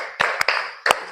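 Three sharp group claps during a counted clapping ice-breaker game, two close together then one after a pause, loud and near with a murmur of room noise between them.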